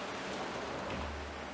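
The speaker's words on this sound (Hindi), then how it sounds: "बारिश हो रही है, आवाज़ सुनिए, इट इज़ रेनिंग।" Rain falling at night around ten o'clock, a steady soft wash of drops with a faint low rumble underneath, continuous and fairly quiet, no voices.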